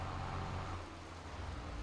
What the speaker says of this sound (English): now our Peterbilts are equipped with Z-Mod's C15 sounds